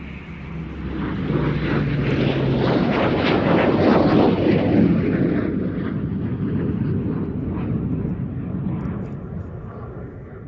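An OV-10 Bronco twin-turboprop aircraft making a low approach flyby at an air show, a loud propeller roar swelling as it passes close, then fading away.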